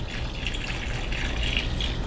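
Bone broth poured steadily into a pot of chicken and rice soup, a continuous close splashing, gurgling liquid stream with no pauses and no talking.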